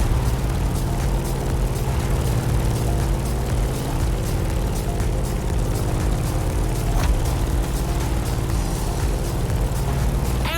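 A Grumman F8F Bearcat propeller plane in The Crew Motorfest video game drones with a loud, steady piston-engine roar and dense harmonic hum, holding constant at close range for the whole stretch.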